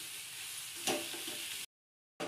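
Jaggery filling for steamed modak stirred and sautéed in a pan, a soft continuous sizzle with one brief scrape, then a short silence before the sizzle resumes.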